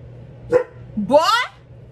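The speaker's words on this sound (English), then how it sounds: "Don't bark at me." Pet dog barking at close range: one short bark, then a longer rising, yelping bark, loud and alone in a quiet room.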